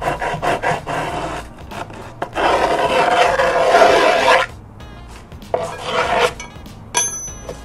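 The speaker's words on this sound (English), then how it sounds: "once you're done filing, kind of just pick up the ends of your grip tape" A file rasped along the edge of fresh skateboard grip tape on a board in several short, loud scraping passes, with a longer continuous stroke in the middle and small handling knocks between.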